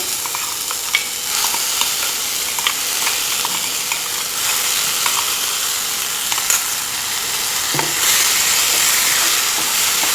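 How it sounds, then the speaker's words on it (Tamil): Ground mint paste frying in a pan while being stirred for pudina rice, a steady close sizzle and hiss with occasional scrapes and clicks of the spoon, continuous and fairly loud. "பச்சை வாசனை போகிற அளவுக்கு ஒரு 2 நிமிஷம் மட்டும் கிண்டி விடுங்க"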